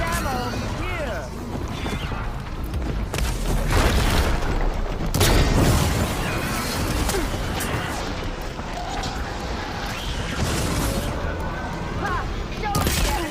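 Gunfire and explosions from the Horizon video game crackle in dense bursts with heavy booms, mixed with shouted voices over the noise.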